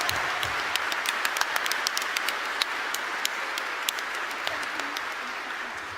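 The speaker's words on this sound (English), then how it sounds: "Big round of applause, everyone, for Janet Carr, series creator." A convention crowd at a gaming panel claps steadily for the full stretch, with sharp individual claps standing out over a dense, even wash of applause filling the room.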